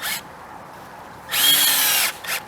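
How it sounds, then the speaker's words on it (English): A power drill drives a coated screw through a pre-drilled pilot hole in a Z-panel into a wooden stud, with two short, loud whirring bursts separated by a pause. "Take your screw, you simply place it into the pilot hole, the pre-drilled pilot hole, and then you're just going to suck it up tight to the stud."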